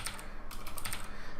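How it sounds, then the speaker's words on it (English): Quick, light keystrokes tap on a computer keyboard, a short burst of close, quiet clicks in an otherwise calm room. "Let me even show you the typing."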